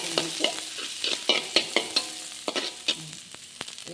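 A spatula stirs masala egg frying in a pan, giving a series of sharp scraping strokes in an uneven rhythm over a soft, steady sizzle, close and fairly loud.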